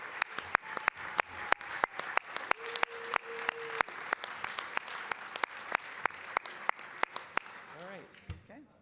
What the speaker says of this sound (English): Please join me in a round of applause for these great leaders.